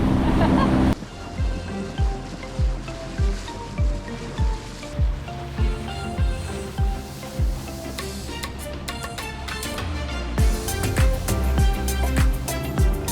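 Sea waves slap rhythmically against the hull of a boat under way, repeated thumps about every half second amid wind noise and engine hum, with a laugh heard near the start.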